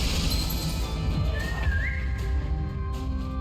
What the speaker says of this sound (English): Why the whistle?